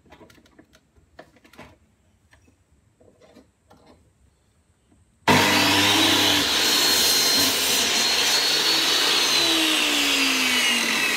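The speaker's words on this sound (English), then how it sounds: "now I'm going to create four legs of equal length, and I'm going to do that using the drop saw" Drop saw cutting wooden table legs to equal length; after a few seconds of faint tapping and handling, the saw starts abruptly and runs loud and steady, a harsh whine biting through the wood.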